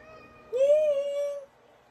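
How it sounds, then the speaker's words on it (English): A house cat gives a single clear, close meow lasting about a second, rising then holding steady, against a quiet room. "That's my Tora. I have a cat"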